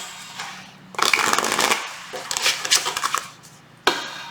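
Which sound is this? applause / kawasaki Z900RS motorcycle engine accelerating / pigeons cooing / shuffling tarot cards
shuffling tarot cards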